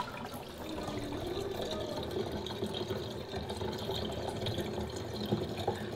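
Tap water runs steadily from a kitchen faucet into a newly installed PVC sink drain in a kitchen island, a continuous close wash of flowing water with no talk.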